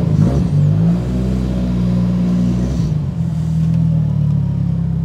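A Mitsubishi Evo 8 with an OEM-style build revs up close and loud, its engine climbing into a steady, droning note, then briefly easing off before building back up. No one speaks.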